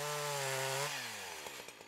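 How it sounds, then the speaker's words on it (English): A chainsaw engine runs steadily at high revs, then its pitch drops as the blade cuts into a plant stem. Rough, loud and close, with no talking. "works with a chainsaw"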